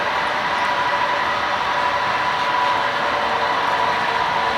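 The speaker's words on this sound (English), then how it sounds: "This is train number 18, the Plainsman, which operates between Kansas City and Minneapolis-St. Paul." The Plainsman, passenger train number 18 running between Kansas City and Minneapolis-St. Paul, gives off a loud, steady rumble with a sustained whine, heard close and alone with no voices.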